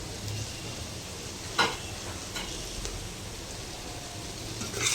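Cinnamon and star anise sizzling in hot oil in an electric pressure cooker, a steady low frying hiss with a few faint stirring scrapes and clicks, no talking.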